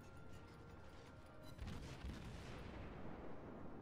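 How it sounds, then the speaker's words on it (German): Rapid artillery salvos from the cruiser Nürnberg strike an enemy battleship in a World of Warships naval battle, a dense continuous rumble of booms and impacts with heavier hits standing out toward the middle. "Und da kommen jetzt die Schüsse schon ganz gut rein."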